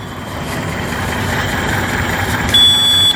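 A steady low motor hum from an iMA D350 48V 26Ah electric scooter drones throughout, and near the end a high, thin electronic warning beep sounds over it.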